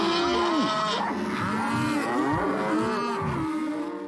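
Cows moo loudly and repeatedly, several long overlapping calls close by that fill the whole stretch with no talking.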